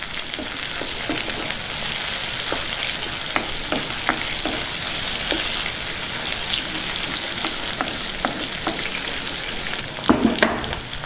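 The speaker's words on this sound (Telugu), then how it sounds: "పోపులు వేగాయండి, ఇప్పుడు పప్పులో వేసేసుకుందాం." Dried red chilies and curry leaves sizzle in hot oil as a tempering for toor dal with yellow cucumber, a continuous close frying hiss broken by scattered clicks of stirring, with no talk.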